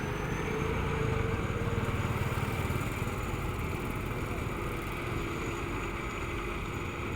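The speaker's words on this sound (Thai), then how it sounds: "เร่งเครื่องไม่แรงเลยครับเนี่ย" Combine harvester engine running while cutting rice in a dry-season paddy, a steady close diesel drone with rapid mechanical pulsing and no break across the whole stretch.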